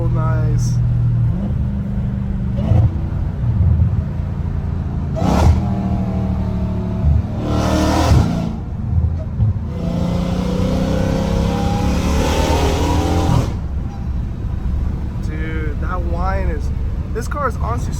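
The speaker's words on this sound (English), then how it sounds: "Dude, the supercharger whine is so nice." A supercharged car accelerates from inside the cabin, engine rumble rising and falling through gear changes with a climbing supercharger whine, loud and close, while someone talks over it.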